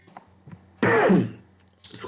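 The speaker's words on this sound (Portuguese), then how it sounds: "desculpa pela tosse" A single harsh cough or throat-clearing bursts out between quiet, faint speech sounds, loud and close.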